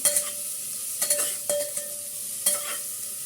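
Cumin seeds stirred as they fry in a pot, a steady high sizzle broken by a few sharp scrapes of the spoon against the pot, close and fairly quiet.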